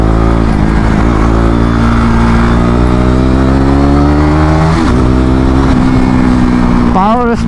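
A 250cc Turkish-made motorcycle engine drones loudly and close during a ride, its pitch climbing steadily through the gears, dipping and rising again, with a sharp rev at the end.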